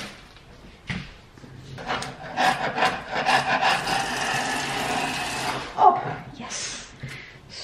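A sharp chisel scraping paint off old hardwood in a 1925 abandoned house, a run of rough, rasping strokes that swell into a dense scraping burst before easing off, close and fairly quiet.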